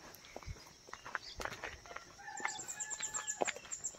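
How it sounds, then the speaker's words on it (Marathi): A rooster crows once at a distance in a quiet Konkan village at Sakhaloli near Dapoli, the call rising faintly above soft background rustle and light steps. "कोंबड्याचा आवाज."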